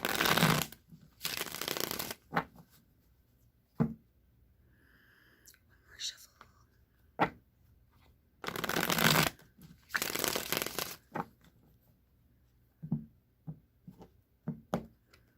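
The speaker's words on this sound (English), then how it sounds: "I'm going to shuffle this deck 3 times" Close, loud riffle shuffles of a tarot card deck in three distinct bursts, with quiet whispering and a few soft knocks between them.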